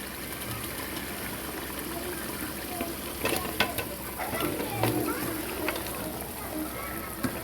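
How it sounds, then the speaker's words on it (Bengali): Chicken pieces sizzle and fry in a pan of spiced meat masala while being stirred for chicken kosha, with steady close frying hiss and occasional scraping stir clicks; a voice speaks briefly over it. "মুরগিটা দিয়ে কষিয়ে নিব।"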